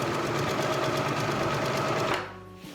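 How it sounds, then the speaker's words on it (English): A sewing machine runs steadily, stitching fabric hems in a fast, even whir that holds for about two seconds, then slows and stops. "I'm going to sew these hems, and then I can get on to the next step"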